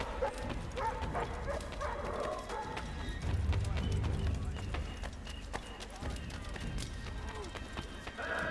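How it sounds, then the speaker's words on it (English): Dogs barking in the video game Assassin's Creed III, a few short barks mixed into busy street ambience with hoofbeats and crowd noise, moderately faint and partly buried under the game's background sound. "doggos. Bark, bark."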